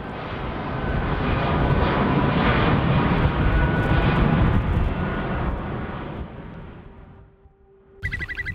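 Aircraft at Vágar airport in the Faroe Islands, a loud sustained engine roar that fills most of the span, then fades away and leaves a low steady tone and a brief, sharper burst of sound at the end.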